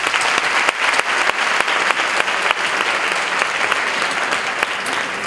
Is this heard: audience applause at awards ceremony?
yes